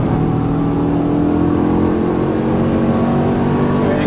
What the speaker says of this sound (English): As we start to slow the car down, entering turn number 1 here.